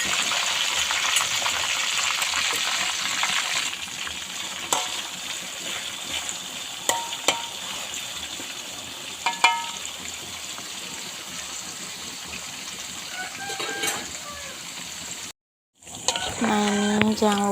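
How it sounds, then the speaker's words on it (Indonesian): Meat fries in a pan with a continuous crackling sizzle and scattered sharp pops and scraping clicks. After a brief gap near the end, the sizzling returns and a voice speaks over it. "Nah ini kita lanjut mau goreng dagingnya dulu ya teman-teman."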